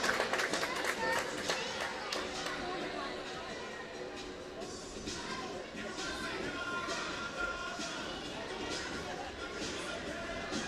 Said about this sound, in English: How about another round of applause for our team of the week, the 12-3 girls, coached by Coach Beasley